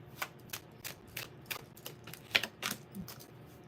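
Tarot cards being shuffled close by, a quiet run of crisp riffling flicks that come in an uneven rhythm, with no voices.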